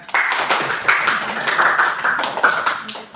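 A classroom of students applauds a correct answer, with brisk, steady, dense clapping from many hands right up close for the full stretch and no talk over it.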